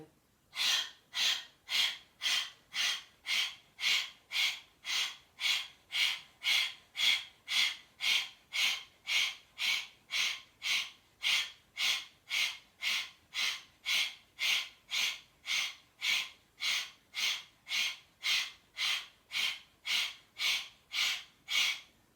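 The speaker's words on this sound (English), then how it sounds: "So that was belly breathing." Fast rhythmic belly breathing exercise during an evening stretch and strength session: about thirty sharp, evenly spaced breaths, each a loud airy huff, repeated steadily and close up with no talking.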